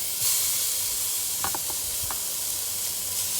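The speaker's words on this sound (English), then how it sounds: "Got a little corn oil getting hot. Oh, listen to that." Corn oil heating on a Lodge Kickoff Grill gives a faint, steady hiss and sizzle, with a few brief crackles and pops partway through.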